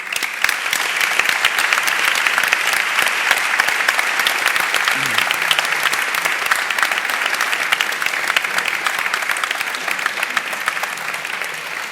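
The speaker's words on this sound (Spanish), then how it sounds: "Un aplauso." A large audience at an economic forum held in a casino hall applauds loudly and continuously, a dense, even wash of many hands clapping that holds steady throughout.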